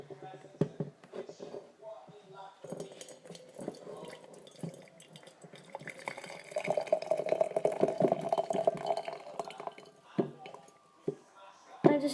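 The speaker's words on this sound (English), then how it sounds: "And then I'm going to add a hot boiling water." Hot boiling water is poured into a cup that holds a little milk, a gurgling trickle that swells into a steady pour midway, with faint clinks and handling sounds before and after.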